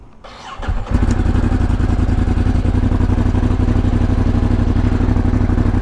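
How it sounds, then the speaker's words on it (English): A 2018 Ducati Monster 821 motorcycle engine cranks briefly and then catches, settling into a loud, steady, close idle with a throbbing, lumpy pulse. "We are test riding a 2018 Ducati 821."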